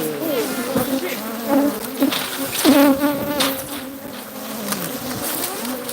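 Honeybees from a huge colony of over 100,000 swarm at a windmill in the rain, a loud, close buzz with individual bees whining past near and far.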